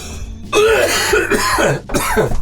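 Harsh, rasping coughs and throat-clearing come in a few strained bursts up close, loud and spluttering, almost like choked laughter.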